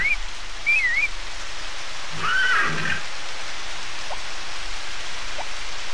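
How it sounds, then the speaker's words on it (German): A short horse whinny in the farming game Harvest Moon: Back to Nature, brief and high over a steady hiss of rain-like background noise. "Oh, du blödes Pferd."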